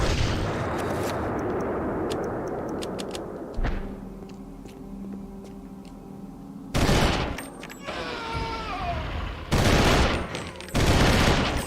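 Gunfire in the video game Eternal Darkness, loud bursts of shots with heavy blasts, rapid volleys at the start and several sharp, dense bursts later, with quieter echoing gaps between.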